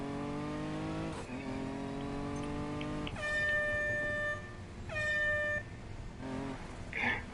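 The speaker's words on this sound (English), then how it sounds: "That horn sounds hilarious." A cartoonish multi-tone car horn in the racing game Need for Speed Payback blares twice in long, bright blasts, following a descending engine-like whine, with a short squeak at the end.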